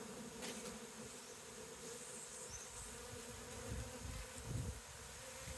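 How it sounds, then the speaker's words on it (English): Honey bees crowd a hive frame pulled from a box in Barbados, giving a continuous, close, moderately loud buzzing drone with a few louder passes from single bees and no talk. "And on this frame, a bunch of bees."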